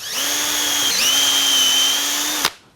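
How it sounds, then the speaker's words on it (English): A power drill whirs steadily at high speed boring a hole into wood on a lathe-turned coffee scoop, dipping briefly mid-run, then cuts off abruptly, leaving silence. "we're going to take a drill and we're going to drill a hole"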